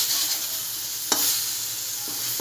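Food burning and sizzling in a thin kadai wok, a continuous loud hiss with one sharp stirring scrape midway, no voices.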